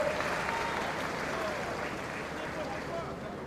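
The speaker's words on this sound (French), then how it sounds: "Acclamez, acclamez, acclamez, acclamez." A large crowd applauds and cheers at a party congress, steady broad clapping sustained throughout with voices mixed in.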